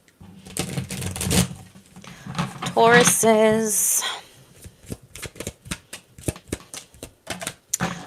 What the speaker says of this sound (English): Let's shuffle out the day-to-day messages